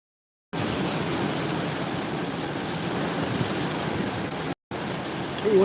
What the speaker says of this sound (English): Yeah, it's really starting to pour now.